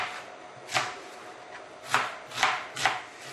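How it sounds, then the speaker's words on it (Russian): Onion being chopped with a knife on a cutting board, four or five crisp, moderately close knife strikes at an uneven pace, with no talk. "Сейчас будем обжаривать лук."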